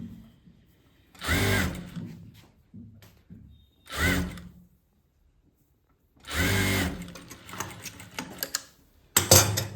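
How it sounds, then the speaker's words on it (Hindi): A sewing machine stitches fabric in four separate bursts of whirring, each lasting about one to two seconds with quiet pauses between them. The run at the end is the longest and steadiest, and small clicks of handling are heard in between. "और फिर सिलाई करो"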